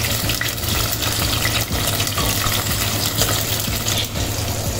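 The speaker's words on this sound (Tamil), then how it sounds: "பூண்டு பொரிஞ்சிக்கிட்டு" Garlic sizzling and frying in a pan for a Tamil mango vathal kara kuzhambu, a steady dense crackle with stirring scrapes and liquid sounds throughout, no voices.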